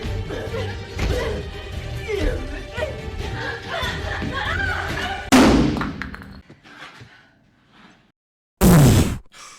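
Film scene of a person slammed against a window, a sudden heavy thud and crash after busy voices and music, followed by quiet and another loud impact burst near the end.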